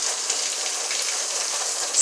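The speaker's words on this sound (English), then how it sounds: "Storm doesn't hit Jamaica, but it's passing over. And we're getting a lot of rain." Heavy rain from Hurricane Zeta pours down in Jamaica, a steady, dense hiss of drops on surfaces that holds at the same loudness throughout, with no voices.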